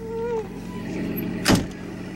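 A car's electric power window motor running again after a repair with 3D-printed ABS parts: a brief whirring hum, then a short firm thunk as the glass stops, close up with no talking.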